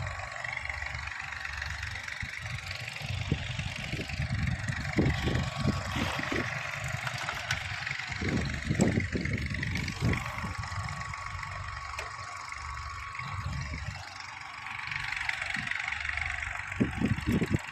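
A tractor engine running while pumping water for field irrigation among mustard fields, a steady low mid-pitched chugging drone with irregular thumps and knocks, fairly close and continuous, no talk.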